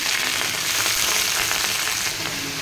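Malabar spinach leaves dropped into a pan of fried garlic, crackling in a loud, steady, close-up sizzle with no voices.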